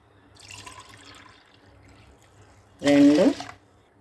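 Water poured from a glass onto washed rice and moong dal for Kurnool-style pulagam, a short splashing pour near the end after a quieter trickle and faint background sounds.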